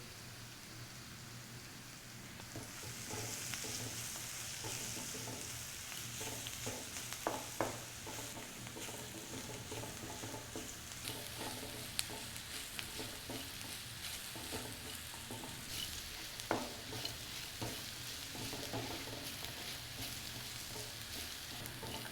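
Onion frying in a pan with salt and turmeric added, a steady soft sizzle running throughout with scattered scraping stirs and clicks of a spoon, no voices.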